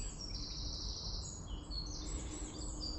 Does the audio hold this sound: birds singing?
yes